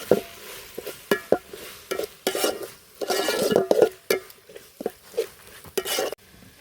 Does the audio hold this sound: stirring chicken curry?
yes